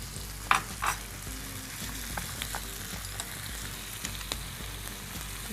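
A clam (kalavanchi) salad mixture with tomato and lemon juice sizzles gently in a pan, with a soft steady frying hiss and a few sharp scraping clicks of a spoon as it is stirred, close and quiet.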